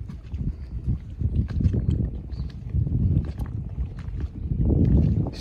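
Water waves striking shafts in cold Canadian conditions, a close irregular sloshing and knocking in uneven bursts, fairly loud with some wind noise, and no talking.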